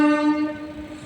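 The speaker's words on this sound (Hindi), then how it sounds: "अब स्लो हो गई है ट्रेन थोड़ी सी।" Passenger train heading toward Dehradun slowing down, with a loud, close tonal horn sounding for about half a second, then fading under the steady rumble of the moving carriages.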